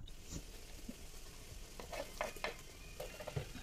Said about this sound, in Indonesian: Kemudian kita masukkan bumbu rempahnya.